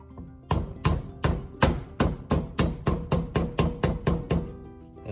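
A new valve seal on a small-block Chevy 305/350 cylinder head tapped into place with a deep socket: about a dozen crisp metallic taps in an even, fairly quick rhythm, close and moderately loud.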